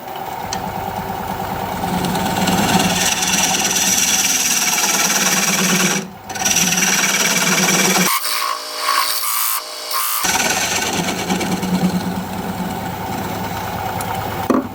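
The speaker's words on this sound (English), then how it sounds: "I'm going to use this dovetail tool, recess tool, to put a dovetail on the sides here." Plum crotch wood spinning on a wood lathe as a dovetail recess tool cuts the sides, a steady close motor hum and scraping cut broken by a brief pause and then about two seconds of near silence before the cutting resumes.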